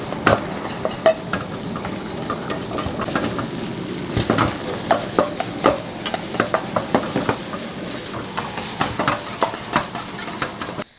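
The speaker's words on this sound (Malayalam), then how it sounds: "നന്നായി ഒന്ന് ഇളക്കിയെടുക്കാം" Noodles being stirred with chilli sauce and soy sauce in a pan, a steady run of scraping, clacking utensil strokes against the metal over a soft sizzle, close and continuous with no talking.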